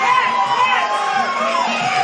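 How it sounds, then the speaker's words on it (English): An MMA crowd at a Super Fight Fest event roars and shouts continuously as a fight enters round five, a dense, loud wall of cheering voices. "the crowd is erupting right now as we go into round 5"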